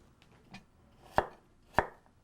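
A knife chops green onion on a cutting board with a faint tap, then two sharp, close knocks about half a second apart, in a quiet kitchen with no voices.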